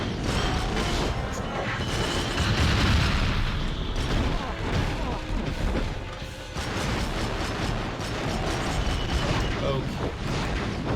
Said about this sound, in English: And then you just shoot him, spam your pistols, build up some ammo,